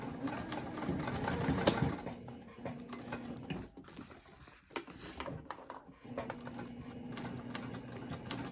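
A sewing machine stitches a second line along a tote bag, its fast, even needle chatter running steadily at close range with brief pauses and light handling sounds.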